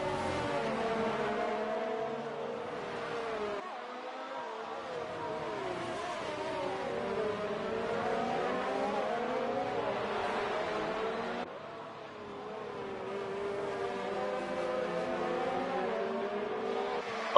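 Race cars in a sim racing game at the Hungarian GP, engines roaring steadily with rising and falling revs as several cars battle closely, loud and continuous throughout with brief dips as gears shift.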